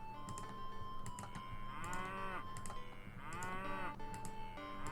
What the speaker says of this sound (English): I got a bunch of cows coming.